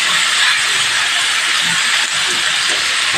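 Cabbage cooks in a kadai, a few pieces at a time, and gives off a steady, loud hiss of steam with a low simmering bubble underneath. The sound is close and continuous, and no one speaks.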